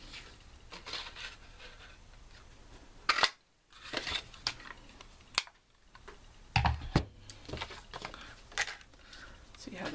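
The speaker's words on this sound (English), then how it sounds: "we're going to cut out a little tag with our" A handheld tag punch cuts a small paper tag for a Stampin' Up butterfly card, giving sharp clicks and snaps at a crafting table between stretches of talking.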